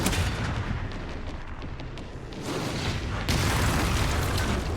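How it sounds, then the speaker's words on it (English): In Resident Evil Requiem, a mortar fires and explodes, giving a loud, rumbling blast that surges and roars continuously, with a second, heavier burst partway through. "maybe I need to use the other mortar"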